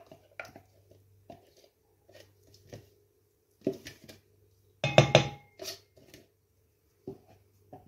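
Ingredients and sausage meat for a country terrine with chanterelles go into a salad bowl, giving sparse clinks and taps of utensils against the bowl, with a louder cluster of clatter midway, in a quiet kitchen.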